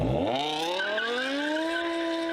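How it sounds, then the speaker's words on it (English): A BMW M5 V10 engine roars as it accelerates hard from a standstill, its pitch climbing steeply and then holding at a high, loud whine. "When the light turns green, you slam the throttle."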